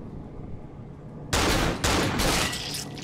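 Enemy gunfire in the horror game Cry of Fear bursts in suddenly after a quiet stretch, a loud, dense volley of rapid shots that keeps going to the end, with a brief dip partway through.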